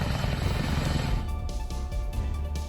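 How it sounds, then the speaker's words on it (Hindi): A twin-rotor Chinook helicopter airlifting large rescue machinery after a road closure, a loud close throbbing rotor beat with a constant engine roar, pulsing steadily throughout. "सड़क मार्ग बंद होने से रेस्क्यू के लिए इस्तेमाल होने वाली बड़ी बड़ी मशीनों को भी चिनूक हेलीकॉप्टर से एयरलिफ्ट किया गया"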